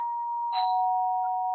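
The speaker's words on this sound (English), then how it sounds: "There's a doorbell." A doorbell chimes indoors, a clear steady electronic tone with a second brighter note joining partway through, ringing alone with no talk over it.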